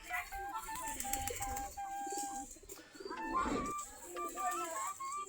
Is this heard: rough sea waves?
no